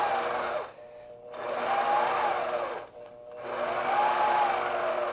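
A longarm quilting machine stitches along a ruler, its needle motor humming in two sustained runs with a short pause between them, the pitch swelling and dipping as the machine moves.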